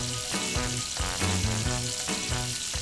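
Saltimbocca with ham and pieces of polenta fry in a hot pan, giving a loud, continuous sizzle. Low tonal sounds pulse underneath in a repeating pattern.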